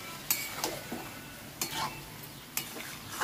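Aloo posto of potato, onion and poppy seed paste stirred in a pan with a little water, a few soft scraping strokes over a faint low simmer, no voices.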